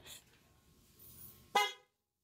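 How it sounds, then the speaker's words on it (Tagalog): A vehicle horn is sounded by pressing its side-mounted switch, giving one short, bright honk near the end after a faint buzz. It cuts off abruptly into silence. "Ito yung switch ng horn. Dito sa gilid. Pindutin mo na mahina."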